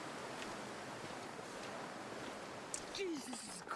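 Wind blows across a snowy landscape in The Long Dark, a steady soft rushing gust that holds evenly throughout, with a faint brief knock and scrape near the end.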